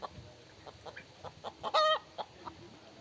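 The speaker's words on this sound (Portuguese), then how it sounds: "Galinha aqui, os pincinhos comendo esse porco, melão" Hens and chicks cluck and peep on a Brazilian farm, soft repeated clucks at a steady rhythm with one louder, higher call standing out near the middle, against quiet rural background.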